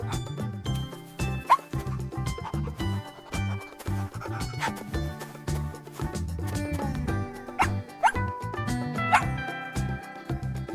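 Dog barking in repeated yips and woofs throughout, fairly close, with short whimpering whines among the barks and no talk over it.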